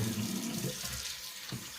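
Tap water runs steadily into a sink to rinse a razor blade during a beard shave, a close hissing splash that briefly changes pitch as the flow is interrupted.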